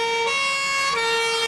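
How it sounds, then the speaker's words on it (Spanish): Fire engine sirens sound as firefighters arrive at an emergency drill at a university in Alcorcón, a loud, steady multi-tone wail with held pitches that step down and back up, close and continuous before cutting off abruptly. "Suenan las sirenas y llegan los bomberos."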